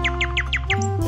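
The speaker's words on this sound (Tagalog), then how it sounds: "Nagsimulang kumanta ang nightingale at tumugon ng bata." A nightingale sings a quick run of bright, repeated chirping notes, close and clear over a steady low background hum.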